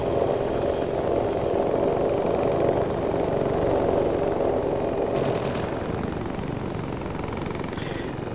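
Helicopter rotor drone in a multiplayer military video game, a steady, loud continuous thrum holding throughout with slight broadband wash, no voices over it.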